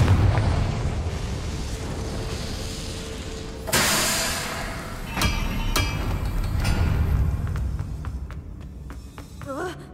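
A Confringo blasting spell explodes in a video game with a sudden burst and a broad rumble that trails off, followed by softer crackles and pops.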